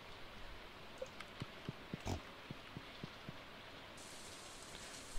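Pigs grunting in the Stardew Valley farming game: a series of short, soft grunts at a steady, spaced rhythm over a quiet background hiss, with one louder burst near the middle.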